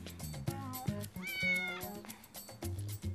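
A cat meows several times in a domestic garden scene, with sliding, wavering cries standing out clearly over a steady low hum and some background clatter.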